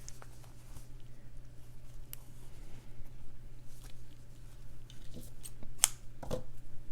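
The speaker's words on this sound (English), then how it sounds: "Snip my thread and then reassess." Scissors snip embroidery thread while stitching a barn owl, with two or three quick close snips near the end over a faint steady hum and soft handling rustle.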